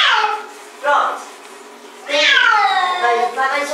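Pet cat named Sith meowing during its first bath, giving a couple of short cries followed by a long, drawn-out plaintive yowl, close and loud.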